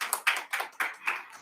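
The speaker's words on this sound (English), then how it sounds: "Feel free to give them a round of applause" Applause for geography bee contestants, a few close, separate claps in an uneven rhythm, sounding like only a handful of people clapping.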